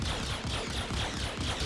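Rapid, rhythmic bursts of spaceship cannon fire in Star Citizen repeat steadily in a quick pulsing pattern, moderately loud, with no voices.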